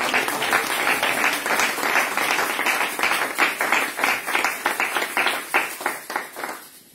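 A church congregation applauds together in a sustained round of clapping that fills the space, steady and loud throughout, then trails off at the very end.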